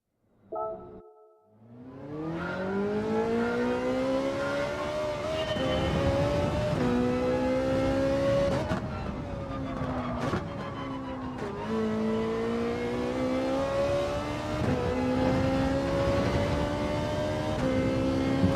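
A Ferrari 458 Italia race car in Gran Turismo 7 roars alone at full volume, its engine revving hard through repeated upshifts, pitch climbing then dropping with each gear change over a long run.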